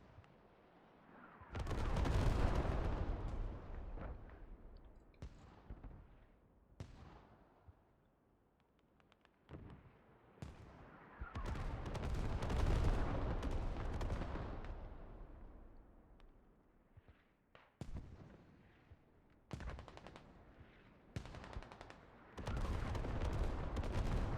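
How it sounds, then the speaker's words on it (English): Heavy artillery fire in the war game Foxhole, with repeated loud, rumbling blasts rolling in at irregular intervals, each one swelling and then fading back into a quiet background. "Really good artillery."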